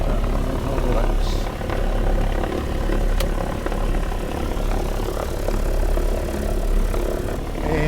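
A 1944 Douglas DC-3 named Betsy idles its piston engines before taxiing, a steady loud rumbling drone heard from the cockpit, with people talking over it.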